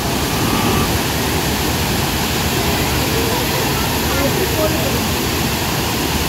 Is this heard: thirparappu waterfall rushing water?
yes